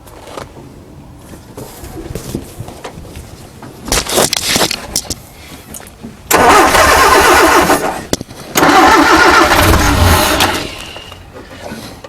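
A 1968 Commer 2500 van engine is cranked repeatedly; short bursts of starter churning end in two loud catches where the engine runs briefly and dies, suggesting it needs more choke.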